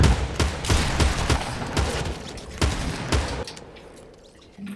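Rapid bursts of gunfire from a battle royale shooter game, a dense volley of sharp shots for about three seconds that then breaks off, leaving quieter game ambience.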